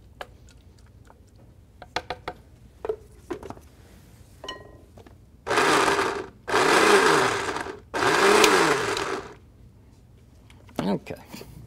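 A blender chops and mixes ingredients for muffaletta in three loud, whirring bursts of a few seconds each, with short pauses between them, framed by scattered clicks and handling noises before and after.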